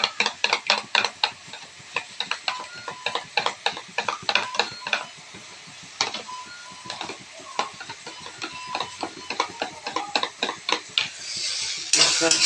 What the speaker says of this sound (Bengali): তারপর টক দইটাকে এইভাবে ফেটিয়ে নিচ্ছি আমি।